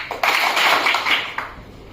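Audience members at a brand-building and email marketing talk clap together, a sharp burst of hands that rings briefly, followed by a smaller second burst before fading.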